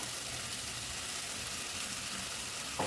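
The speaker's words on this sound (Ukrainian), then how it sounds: "Тільки що вже так підсмажилося трошки гарбуз і картопля" A constant, even sizzle of pumpkin and potato frying in a pan, steady and hissing throughout with no talking.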